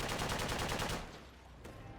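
Sustained automatic gunfire in the military shooter game Project Reality, a dense rattling burst for about a second that then drops away, with a single sharper shot afterward.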